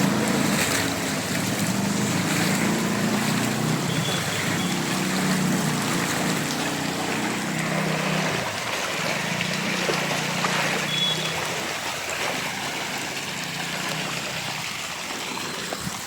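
Heavy monsoon rain in Bhavnagar with rainwater flowing through the streets makes a dense, steady rushing wash that stays loud and even throughout, with no voices over it.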